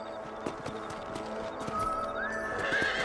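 In the video game Red Dead Redemption, a horse whinnies in a rising, wavering cry while hooves clip-clop steadily underneath, fairly close and moderately quiet.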